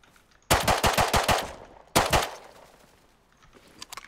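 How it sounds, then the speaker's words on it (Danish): Automatic gunfire in the survival video game Rust, heard from a base: a rapid burst of about seven shots, a short pause, then a second burst of two or three shots, fairly distant and trailing into quiet. "der skyder bag ved basen."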